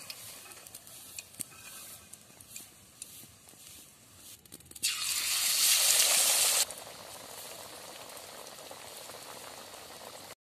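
Bottle gourd ring chops frying in hot oil: a low bubbling sizzle runs throughout, swelling to a loud, bright hiss for a couple of seconds midway, then settling back to a steady simmer with no talk.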